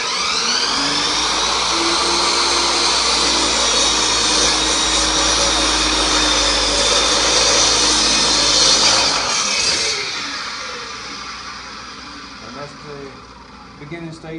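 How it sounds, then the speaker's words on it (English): A table saw rips wood lengthwise into strips about 2 3/4 inches wide for rustic end table legs, a loud steady whine running for nearly ten seconds before dropping away into quieter workshop noise. "I'm gonna take this over here to my table saw and I'm gonna rip them"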